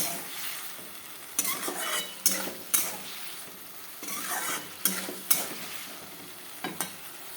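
Egg curry with cauliflower and potato being stirred in a pan, a steady sizzle under repeated scraping strokes and sharp utensil clacks against the pan, with no voices.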